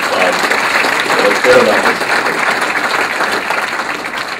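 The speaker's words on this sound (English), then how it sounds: "So let's give your congressional delegation, Democrat and Republican, a round of" Loud, sustained applause from a town hall crowd for a congressional delegation, a dense steady roar of clapping with a few voices mixed in underneath.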